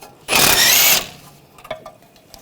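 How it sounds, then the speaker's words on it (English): A ratchet with a 15mm socket removes the tie rod end nut on the front suspension of a 2014-2020 Nissan Rogue: one loud, rapid mechanical burst close up for under a second, then a few faint clicks. "I'm going to take the nut off of the tie rod end."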